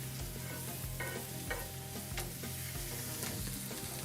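Vegetables sautéing in an oiled pan, a continuous soft sizzle broken by repeated scraping stirs at an uneven rhythm, close up with no talking.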